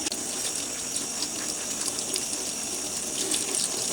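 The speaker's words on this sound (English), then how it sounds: "So I'm going to show you the best way to wash your gloves." Work gloves being scrubbed by hand under a running tap, a steady, close rush of water pouring into a sink without pause, with no talking.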